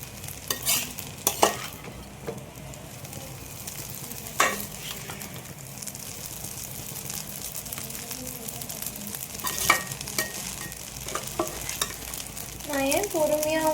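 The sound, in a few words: stirring chicken noodles frying in a pan on medium flame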